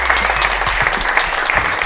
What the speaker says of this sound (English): Give the panel a round of applause that they so richly deserve.